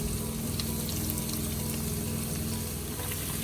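Capsicum cooking with chicken in a pan, giving a dense, even sizzle and crackle that holds steady and close for the whole stretch.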